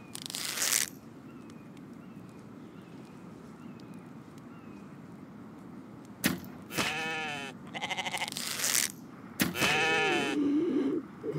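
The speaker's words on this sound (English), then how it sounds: "There's a goat." Goat bleating in the survival video game The Infected, several loud wavering bleats in the second half of the clip, with a brief earlier burst over a soft windy background.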